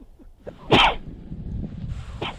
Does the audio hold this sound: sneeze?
yes